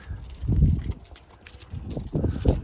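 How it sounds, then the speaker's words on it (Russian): Horses being herded into an enclosure on a farm where mares are milked, with hooves clopping in uneven bursts at moderate distance and some rustling between steps. "Вот так пригоняем лошадей."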